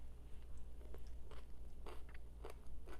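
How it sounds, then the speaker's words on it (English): Crunchy food is chewed close to the mic, with quiet, irregular crisp bites and crunches over a few seconds and no speech. "Had to chew that."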